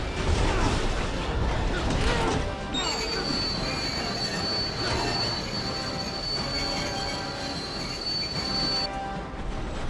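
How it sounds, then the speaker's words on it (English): A speeding train in the video game LEGO Marvel's Avengers roars along with loud, sustained wheel squeal and metallic screeching, a high whine holding steady through the middle over constant rumbling rail noise. "Better get to the front of the train to pull the brakes on this thing."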